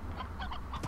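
Chickens cluck in the farm video game Slime Rancher, a short burst of several overlapping fowl calls close by, with no talking.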